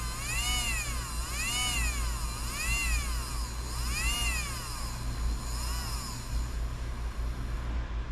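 Electric can motor spinning steadily in a Marui Samurai 1/10 4WD RC buggy, a continuous close hum with a low buzz underneath and a rising-and-falling whine that fades out partway through.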